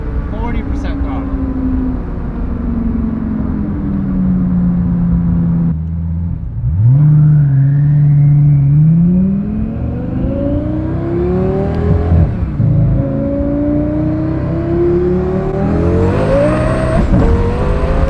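A 1300whp twin-turbo Lamborghini Gallardo accelerates hard at 40% throttle, its loud engine note sweeping up through the gears with a brief dip at a shift, a turbo whine and a rising final pull, with people talking over it.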